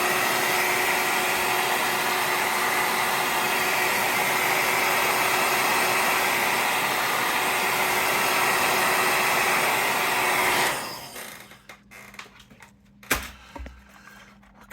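Hair dryer blows on a weathered model railroad CNW covered hopper car, a loud continuous close whir with a steady tone that switches off near the end, followed by a few faint clicks and handling knocks.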